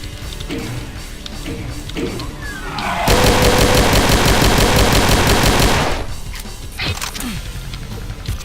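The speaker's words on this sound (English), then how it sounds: "the pistol completely drowns you out" Rapid, loud automatic gunfire from a weapon in the Doom video game played with the GZDoom mod Final Doomer, a dense burst of about three seconds that stands out clearly against quieter game sounds before and after.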